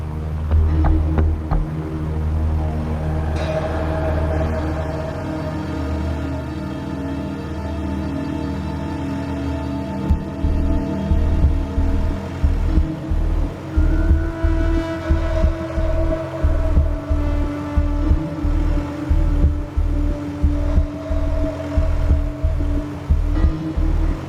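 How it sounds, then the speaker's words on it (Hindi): A vehicle engine with a fault runs with a steady low hum, then from around ten seconds it turns into a loud, uneven pulsing throb that repeats rapidly until the end. No one speaks. "लगता है इंजन में कोई प्रॉब्लम है"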